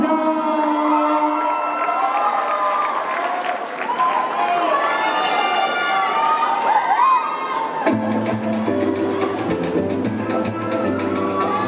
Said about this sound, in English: Big round of applause for Antonio Doza